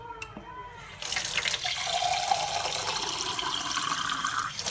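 Water runs steadily into a container for a microwave-cleaning job, a continuous splashing rush that begins abruptly after a brief clatter and stays loud and close throughout.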